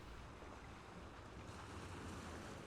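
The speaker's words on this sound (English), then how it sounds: "where's that wave sound coming from?" Steady broadband rush of ocean waves and surf in the Wallace & Gromit's Grand Adventures game, a continuous, wind-like wash with no distinct breaks, fairly faint and alone.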